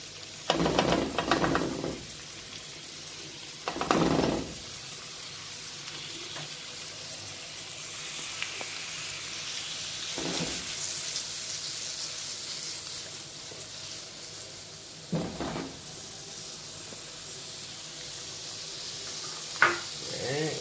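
Faint, steady sizzle of vegetables frying in grease, with a few louder bursts of stirring and scraping in the pan spaced through the clip.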